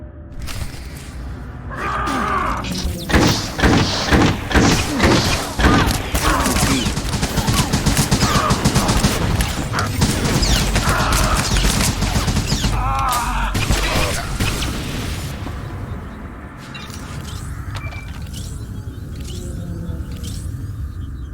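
Blaster fire from soldiers in Star Wars: The Old Republic crackles in dense rapid volleys for most of the stretch, loud and close, with battle noise and occasional shouted voices mixed in, easing toward the end.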